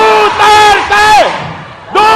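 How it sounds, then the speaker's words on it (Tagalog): A large rally crowd in the Philippines chants a politician's name, three loud, rhythmic group cries spaced about a second apart. "Tingnan natin kung malakas ang sigaw niyong Duterte!"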